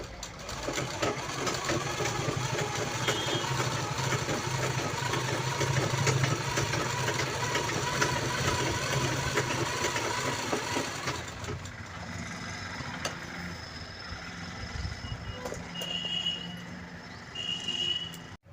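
Sewing machine stitching a zipper onto a handmade purse, a steady close mechanical whirr for about eleven seconds, then stopping into quieter handling sounds and brief light taps.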